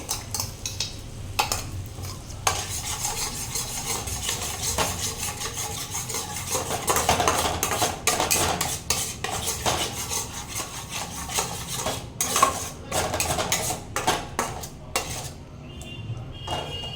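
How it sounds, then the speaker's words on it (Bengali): Spiced masala with sour yogurt stirred and fried in a pan for a vegetarian dhokar dalna, making continuous scraping and rubbing of a utensil against the pan with frequent clinks, loud and close. "এবার এই মশলাটাকে ততক্ষণ একটু কষিয়ে নেব যতক্ষণ একটু তেলটা ছেড়ে আসছে"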